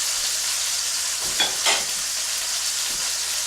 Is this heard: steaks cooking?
yes